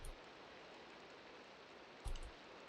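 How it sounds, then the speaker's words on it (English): Rain falling in the Minecraft video game makes a faint, steady hiss that runs the whole time, with a brief slightly louder patch near the end. No one talks. "You can hear the rain."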